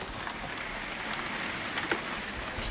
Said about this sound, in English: It's really rainy now.